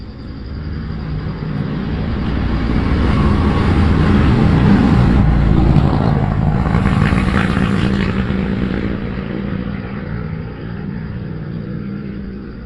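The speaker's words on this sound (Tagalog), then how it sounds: "Daming motor ang dumadaan dito." Motorcycles passing on a rural road, a steady engine rumble that swells toward the middle as they draw near and fades gradually away, loud and continuous with no talk.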